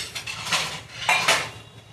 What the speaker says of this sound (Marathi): ते दूध गरम झालेलं आहे तर ते मी साईडला काढते.